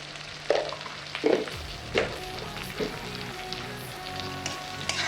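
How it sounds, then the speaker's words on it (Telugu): Dry fish frying in a pan for a Telugu-style dry fish pickle gives a steady, close crackling sizzle, with a few louder stirring scrapes and clatters over it. "వేగాలండి గట్టిగా వేగాలి"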